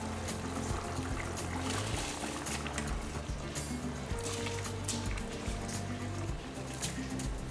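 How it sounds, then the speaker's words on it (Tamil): Water pours and trickles steadily as liquid drains off soaked rice, a continuous wet splashing that runs throughout with low background hum. "ஊற வச்ச அரிசி இருக்கு இல்லையா இந்த தண்ணியை வடிச்சிட்டு போட்டுக்கலாம்"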